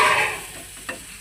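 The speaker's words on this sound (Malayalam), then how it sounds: "എഗ്ഗ് അത് ഫ്രൈ ചെയ്തെടുക്കുകയാണ്. അധികം എണ്ണ ഒഴിച്ചിട്ടില്ല" An egg fries in a pan with a little oil, a loud sizzling hiss that tapers off, with a brief stir or scrape near the end.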